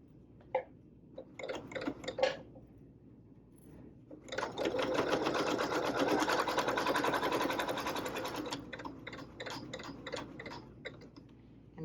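A sewing machine stitches fabric in short bursts at first, then runs in a longer steady whirring stretch before tapering off into a few more brief bursts, fairly close and clear.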